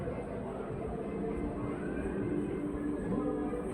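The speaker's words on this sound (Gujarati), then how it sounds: "જો ટ્રેન ઉપડે છે હવે." A children's toy train ride rumbles and rattles steadily inside a shopping mall in Atlanta, Georgia, a continuous low mechanical drone with indistinct background chatter around it.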